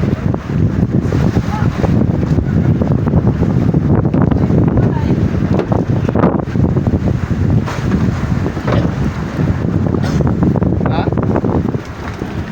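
Strong northeast monsoon wind buffets the microphone in a constant loud rush out on a boat at sea, with water and engine noise beneath and someone briefly speaking.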